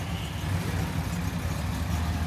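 A 1964 Studebaker Avanti R-2 engine idling at about 750 rpm, a steady low, even rumble close by with no voices over it.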